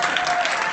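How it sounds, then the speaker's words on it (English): An audience claps steadily at a keynote event for teachers, a dense, even wash of applause filling the short moment with no voices on top. "It's not something to clap for."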